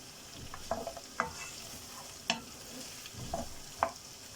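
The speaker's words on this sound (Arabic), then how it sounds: "هنسيب بقى البصل كده يتشوح ويدبل معانا." Onions sauté in a pan under a soft, steady sizzle, broken by a handful of scattered scraping knocks as a utensil stirs them, close and moderately quiet with no talking.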